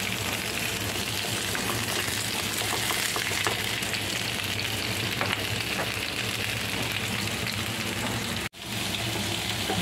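Vegetables for pinakbet frying in a pan give a steady, close, full sizzle that holds throughout with no talking, broken by one very brief dropout near the end.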